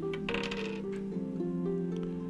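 Several dice tumbling and clattering onto a hard surface in quick bursts, ringing briefly with a sustained tonal hum underneath, close and moderately loud with no voices.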